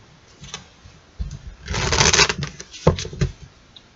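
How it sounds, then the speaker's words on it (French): Small oracle cards being shuffled by hand, soft papery riffles and flicks in short bursts with a louder rustling flurry in the middle, close and quiet with no speech. "On mélange ces petites cartes."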